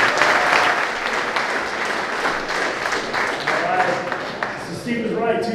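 Loud crowd applause rises as a speaker comes on stage at a cannabis dispensary ribbon-cutting ceremony, many hands clapping continuously and fading slightly toward the end as a voice begins speaking.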